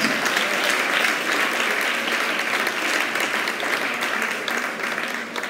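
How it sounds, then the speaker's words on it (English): Warm, steady applause from a school audience at a secondary prize giving, many people clapping together for several seconds before it slowly fades. "give her a round of applause"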